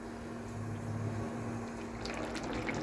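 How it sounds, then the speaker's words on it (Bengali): Hot water pours steadily into a pot of potato curry, a soft continuous splashing gurgle at low volume, with a few brighter splashes toward the end. "গরম জল দিয়ে দিয়েছি, জলটা হয়তো একটু বেশি হতে পারে"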